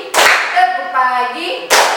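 Children in a classroom clapping game clap in bursts at the start and end, with a teacher's voice chanting call-and-response between the claps.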